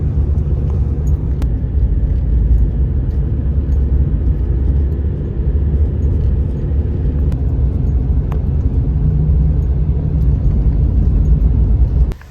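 Low, steady engine rumble of a vehicle driving through snow, constant and close, with no talk and a few faint clicks.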